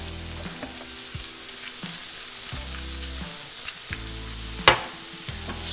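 Beef steak frying in a pan with olive oil, salt and pepper, sizzling steadily while a utensil scrapes and stirs it in a few separate strokes, one sharper clatter near the end, close and with no talking.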